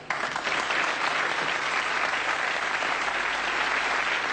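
A studio audience at a British comedy sketch show breaks into a steady, full round of applause that holds at an even, dense level throughout, with no talking over it.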